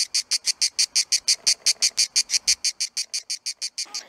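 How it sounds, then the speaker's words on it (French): A gray cicada sings near Pyla in La Teste-de-Buch, a loud, close, rapid train of regular buzzing pulses repeating steadily for several seconds. "Ça, c'est une cigale grise."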